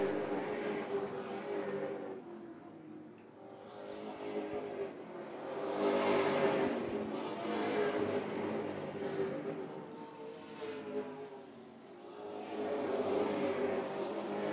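Super late model stock cars race around an oval track, a continuous loud engine roar that swells and fades in waves as the pack passes through the turns, with no talk over it.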